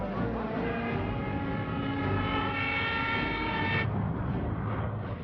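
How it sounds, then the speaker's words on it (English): World War II aircraft approaching over southern England, a steady loud droning roar of piston engines with a sustained tonal hum that cuts off abruptly, leaving a lower rumble. "Planes heard 3 miles southwest."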